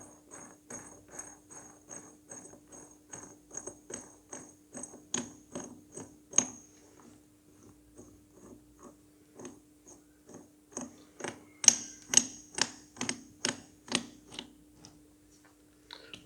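Nut being screwed down on the pinion gear housing of a Massey Ferguson 135 six-speed tractor, steady rhythmic metallic ratchet-like clicks, close and moderately loud, with a faint steady hum beneath and no talk.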